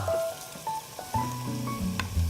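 Rice stir-fried in a pan with beef, perilla oil, soup soy sauce and minced garlic gives soft sizzling and scraping stirring sounds in short bursts, close by and moderately loud.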